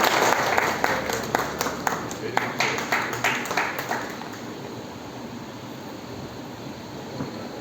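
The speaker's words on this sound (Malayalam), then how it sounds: "ഈ രണ്ടുപേരെയും നമുക്കൊന്ന് കൈയടിയോടുകൂടി നമ്മുടെ കുഞ്ഞുങ്ങളെ പ്രോത്സാഹിപ്പിക്കേണ്ട ആവശ്യമാണ്" An audience claps for two children at a Young Minds International event, a burst of fairly close applause that swells with sharp, quick claps and then thins out to a quiet room.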